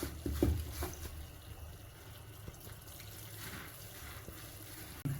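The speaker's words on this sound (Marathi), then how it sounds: "मी आता ह्या मुरमुऱ्यामध्ये पाणी घातले" Water poured over puffed rice (murmura) in a bowl for a brief soak, a soft steady trickle and wash of liquid that swells at the start, then settles into a low continuous flow.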